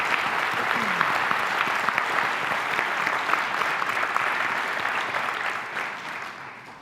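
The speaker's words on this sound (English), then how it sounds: "Give a round of applause to everybody." An audience at an education conference general session applauds for parents. The clapping is broad and sustained, a dense wash from a large room, steady for several seconds before fading toward the end.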